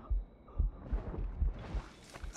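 Heavy, thudding heartbeats from the video game Assassin's Creed Rogue, four or five deep low pulses in a slow, steady rhythm over a dim, murky drone.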